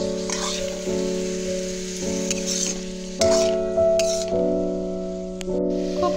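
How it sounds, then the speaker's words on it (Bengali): Boiled white watermelon rind is stirred into a hot pan, crackling and sizzling steadily beneath a loud sustained hum, with periodic scraping bursts from the stirring. "এখন তরমুজের যে হোয়াইট পার্টটা সেদ্ধ করে নিয়েছিলাম, সেটার সেদ্ধটা আমি দিয়ে নিচ্ছি। ভালো করে মিশিয়ে নেব।"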